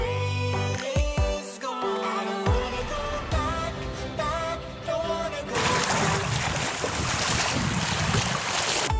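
A sailboat out on the open ocean, sailing from Fiji toward Vanuatu. Tonal, music-like sound comes first, then a steady, loud rush of wind and water fills the second half, with no clear talk.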